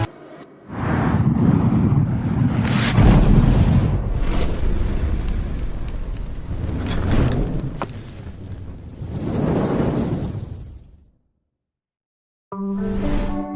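A huge cannon blast from a large warship still coming in to anchor, a roaring, rumbling explosion that swells and lingers for several seconds, then a second heavy boom before falling silent.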